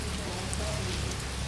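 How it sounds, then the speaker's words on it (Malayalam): Rain falls steadily on a house, a soft even wash of patter without a break. A faint voice is also present. "മഴയാണ്"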